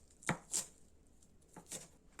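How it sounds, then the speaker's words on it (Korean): Wild chive (dallae) stems are chopped coarsely and a few bulbs lightly minced, giving four crisp, close knife strikes in two spaced pairs with no voices. "달래는 듬성듬성, 줄기는 잘라주고 알뿌리 몇 개는 살짝 다져줍니다."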